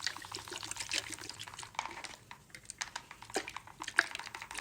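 Water sprayed or poured onto wavy hair during styling with a Denman brush, a close, continuous wet hissing and crackling texture with brief louder bursts and no voices.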